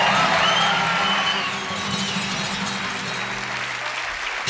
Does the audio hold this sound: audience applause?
yes